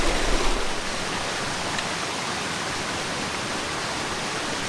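A big waterfall on the Isle of Skye roars as a dense, steady wash of rushing water, loud and unbroken, with a slightly stronger burst at the start and no voices.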